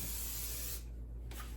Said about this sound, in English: you want to also make sure that you spray the center of your bundt pan